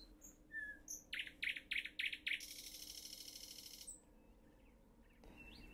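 Birds sing in Copenhagen while traffic is light, heard from up in a tree: a run of quick, bright repeated chirps, then a sustained high trill before it fades, fairly faint and alone.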